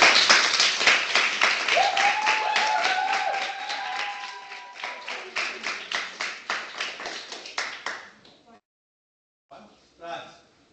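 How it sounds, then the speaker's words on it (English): A class gives a round of applause, with strong rhythmic clapping close by that thins into scattered claps before stopping. A brief voice sounds partway through, then a short burst of sound after a pause. "Give her a round of applause."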